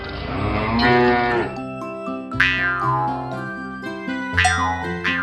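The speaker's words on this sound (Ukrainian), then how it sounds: "Виходь, корова." A cow lets out a long, loud moo, followed by bouncy cartoonish boing sounds over a light musical backing.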